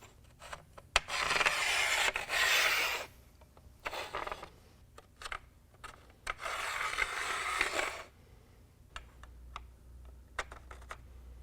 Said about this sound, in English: So we're going to take and slide those clamps into place.